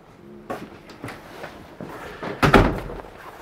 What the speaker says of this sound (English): And pocket door for closing off the bedroom.